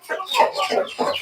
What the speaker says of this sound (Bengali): দেখো কতগুলো মুরগি